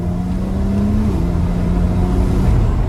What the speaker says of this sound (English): when I downshift, it's such a smooth transition down